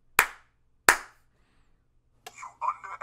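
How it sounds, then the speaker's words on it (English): Two sharp hand claps, evenly spaced and close, aimed at a Clapper sound-activated switch, followed by a short burst of recorded voice playback from the device. "It's two claps instead of three for this one."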